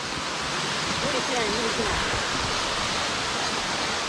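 A waterfall in a cold mountain stream gorge roars as a steady, loud wash of broadband noise with no breaks, while a voice speaks briefly over it.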